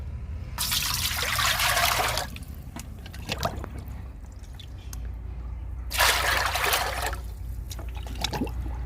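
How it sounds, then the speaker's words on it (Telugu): Kitchen waste liquid fertilizer is poured into a bucket in two bursts of splashing liquid, each about one to two seconds long, with dripping and small handling noises between them and no talk. "కిచెన్ వేస్ట్ లిక్విడ్ సగం పోస్తున్నా ఇందులో."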